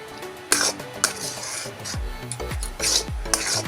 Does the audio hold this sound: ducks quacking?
no